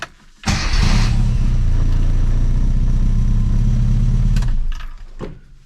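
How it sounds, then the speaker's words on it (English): A classic Mini's engine cranks and catches in a workshop, then runs at a loud, steady idle close by for several seconds before cutting off abruptly, with brief faint sounds afterwards. "as the engine started, the vacuum builds up"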